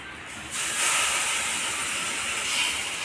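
Water added to cashew paste in a hot pan makes a loud, sudden hissing sizzle that surges after a brief start and holds steady and close to the end.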